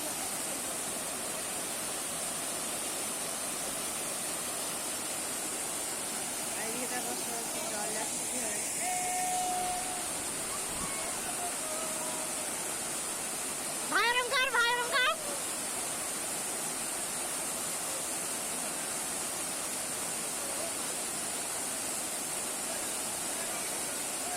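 Steady broadband rush of a waterfall at a crowded bathing spot, continuous and fairly loud throughout, with faint voices in the background and a brief burst of chirpy sound midway.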